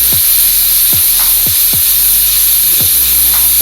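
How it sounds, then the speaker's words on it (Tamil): A pressure cooker of chicken curry on a rocket stove lets off its whistle, a loud, continuous high steam hiss that fills the whole stretch, with a few dull knocks sounding underneath. "விசில் வந்துருக்கு"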